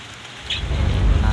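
Rain falls outdoors on a wet day, a brief steady wash of patter that thickens and grows louder after the first half second.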